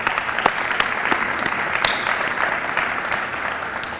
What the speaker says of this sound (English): I think that itself deserves a round of applause